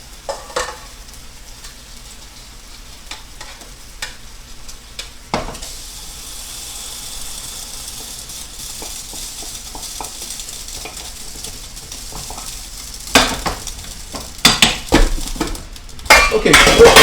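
Chicken pieces sizzle steadily in a pan on a stovetop, with a utensil scraping and clattering against the pan in a burst of louder stirring toward the end.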